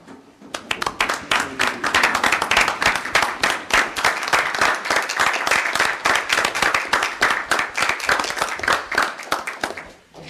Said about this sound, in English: please stand so we can give you a round of applause and appreciate you right now